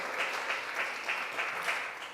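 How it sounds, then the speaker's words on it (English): A summit audience at the Tanzania Health Summit 2022 gives a steady round of applause, a dense, even patter of many hands clapping for about two seconds at moderate distance. "A round of applause for the presenters."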